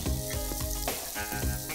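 Mustard seeds, cumin and onion fry in hot oil with a dense, loud sizzle and repeated stirring scrapes, heard alone in a Tamil cooking-show kitchen.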